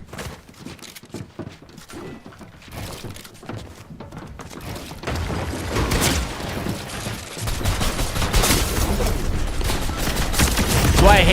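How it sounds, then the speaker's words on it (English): Shotgun blasts and other gunfire in a ranked online shooter match, sparse shots at first, then a louder, denser volley of firing in the second half. "Why I hate that shotgun"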